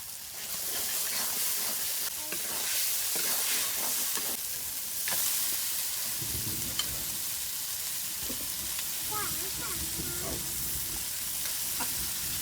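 Food sautéing in a pan in a home kitchen, a continuous loud sizzle and hiss with intermittent scraping and stirring strokes throughout.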